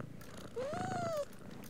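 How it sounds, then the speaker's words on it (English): A cat in South Park: The Fractured But Whole gives a short, soft, rising-and-falling purring trill when petted, a single brief sound over a quiet game background. "Oh, they're purring."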